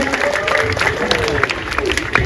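A crowd claps at a school's 78th Independence Day celebration in India: dense, steady applause filling the space, with a voice talking over it.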